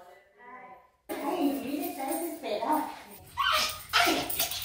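Several dogs greet their returning owner at home with excited barks and high whimpers, close and loud, mixed with overlapping human voices and laughter.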